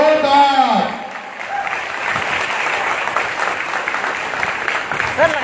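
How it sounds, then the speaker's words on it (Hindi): An audience at a network marketing event in Vishnugarh block applauds Surendra sir loudly, with a dense wash of clapping that runs the whole time after a brief voice from the announcer at the start. "जोरदार तालियां सुरेंद्र सर के लिए प्लीज वेलकम"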